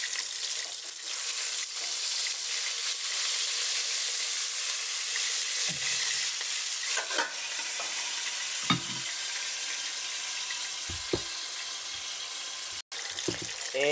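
Hamburger patties frying in a pan for a cheese and fried-egg hamburger steak, with a steady close broadband sizzle throughout and a few soft clinks and taps of utensils near the end.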